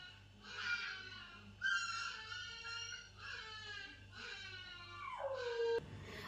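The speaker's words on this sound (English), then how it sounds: "It's a little puppy. That's why it's crying like that." A hurt little puppy, apparently hit by a vehicle, whimpers and cries in long, wavering high whines, several in a row, faint and somewhat distant over a low steady hum.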